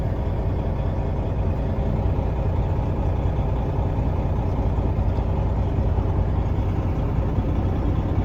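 A 2016 Freightliner Coronado glider kit truck's diesel engine runs steadily with a deep, continuous low rumble, loud and close, holding an even drone throughout with no voices present.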